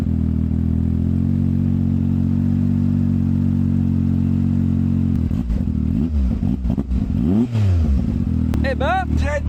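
Close and loud, a Yamaha YXZ 1000R SS engine holds a steady rumbling idle, then revs hard several times in quick rising and falling sweeps.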